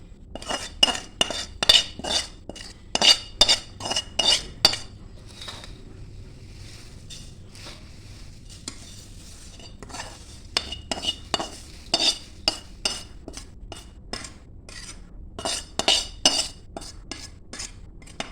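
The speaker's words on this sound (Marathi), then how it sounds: "एकत्र मिक्स करूया आणि चला, मग पोहे टाकून घेऊया." A spoon stirs and scrapes through a thin poha chivda mixture in a metal pan, making repeated close clinks and scrapes in uneven bursts, with a quieter pause in the middle.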